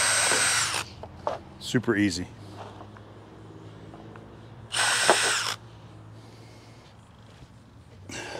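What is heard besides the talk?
power drill with 5/32 bit drilling RV fender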